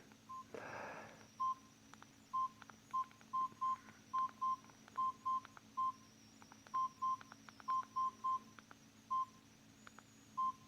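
Short electronic beeps from the game on a Samsung E2121 mobile phone, a quick irregular run of tones at moderate level with a steady low hum underneath and no talk.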